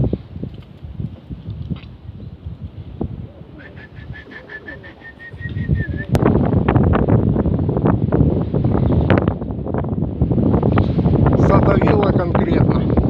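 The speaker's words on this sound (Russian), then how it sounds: "Ветер ужасный. Сдувает их, давит." Strong wind buffets the microphone at a pigeon loft during a training flight, a heavy rumbling roar that grows louder halfway through, with faint bird sounds and someone talking at times.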